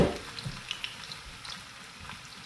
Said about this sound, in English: my oil is hot, and I'm gonna go ahead and drop these plantain slices in